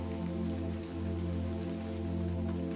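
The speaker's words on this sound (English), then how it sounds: "the rap of the rain and the timid rustle of leaves on branches" Rain falls steadily on surfaces as a continuous soft hiss, blended with a sustained, droning musical tone that stays even throughout.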